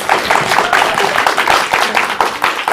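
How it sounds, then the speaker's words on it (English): A live studio audience claps steadily, a dense, continuous patter of many hands filling the whole stretch at close range. "they're all clapping"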